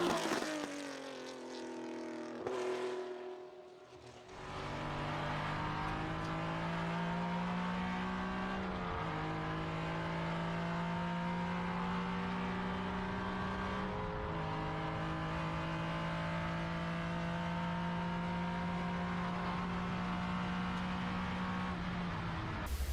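A 1974 Porsche RSR 3.0 with a flat-six engine in a racing video game, revving loudly and steadily with rising pitch through the gears and brief dips at each shift, heard alone with no talk.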